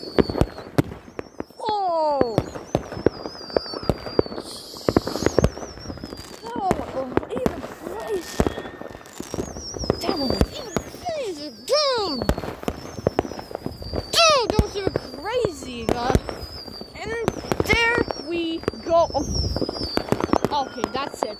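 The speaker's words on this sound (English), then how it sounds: "Some of these fireworks are failures." Neighborhood New Year fireworks crack and pop in scattered bursts, some near and loud, some faint, with whistling streaks, under frequent talk and nearby chatter.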